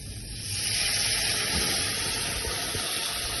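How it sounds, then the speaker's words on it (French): Cold brown poultry stock poured into a hot pan of sautéed meat to deglaze, giving a steady close hiss and sizzle of steam with faint bubbling throughout. "Là, on a du fond brun de volaille, justement, pour venir décoller les sucres qui sont au fond"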